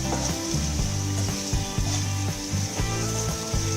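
A vegetarian dish seasoned with salt and a pinch of sugar fries in a pan over a slow to medium flame, giving a continuous close sizzle with soft, rhythmic scraping of a spatula.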